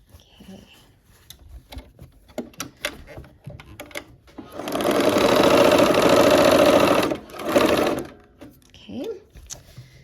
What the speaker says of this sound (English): And now we'll sew this last one. It's the last seam of the block.